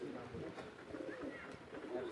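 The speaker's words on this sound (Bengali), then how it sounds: "তো আপনাদের সামনে অনেক ধরনের পায়রাগুলো আছে দেখাবো।" Several pigeons of different breeds cooing softly in a loft: low, rolling coos repeat close by throughout, with a voice talking underneath.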